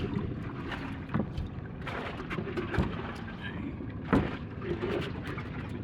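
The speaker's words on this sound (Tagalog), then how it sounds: "yung mga nananakbong bangka na yan" Small bangka motorboats drone across the water at a mussel farm, a low hum with wind buffeting the microphone and occasional splashes and knocks.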